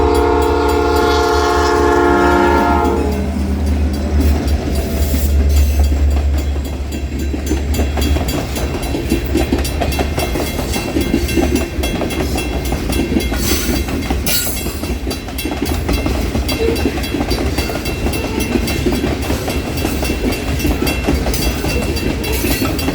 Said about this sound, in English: I would get a short video of the train heading south